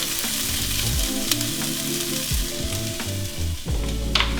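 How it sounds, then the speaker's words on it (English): Pre-chopped vegetables sautéing in a heated pan, a loud continuous sizzle with repeated scraping and stirring strokes of a utensil against the pan, no voices. "we're gonna use those veggies that we pre-chopped earlier, saute them"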